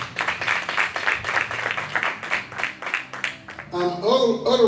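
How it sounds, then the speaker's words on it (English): An audience claps in a rapid, dense patter of hand claps that carries on for several seconds before a voice begins speaking over the fading applause. "Let's give them another hand clap."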